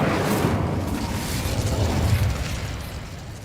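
A fire spell cast in the game Hogwarts Legacy, heard as a steady roaring whoosh of flame that holds loud for about three seconds before easing off slightly at the end.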